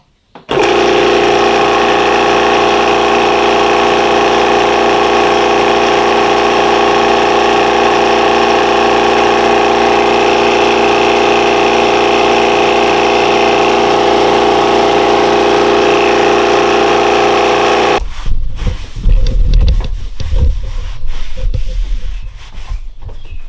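A small air compressor runs after a tune-up, a loud steady droning hum with rhythmic pulsing held close for most of the span, then cuts off into scattered knocks and rattles.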